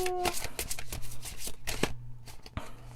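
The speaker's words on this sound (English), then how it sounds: "I'm going to just pull these 2 right now and then finish shuffling" Oracle cards being shuffled by hand at close range, a run of quick crisp riffling rustles and soft slaps in uneven bursts, with a faint low hum beneath.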